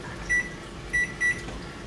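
Three short electronic beeps from a microwave timer, one then a pair, over a quiet background hum in a home kitchen.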